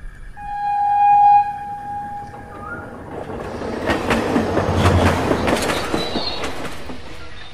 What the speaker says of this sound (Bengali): এখন দেখুন ট্রেন ঢুকছে।